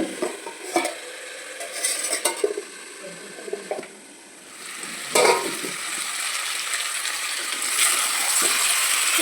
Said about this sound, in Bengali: তো মাংসটাকে জাস্ট এইভাবে শুধু একটু কষাতে থাকো